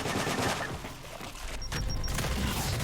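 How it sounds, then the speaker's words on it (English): Gears 5 firefight: dense, loud bursts of rapid gunfire and booms, continuous and close, with a brief electronic beeping tone partway through. "You shoot him in his belly whenever he opens up"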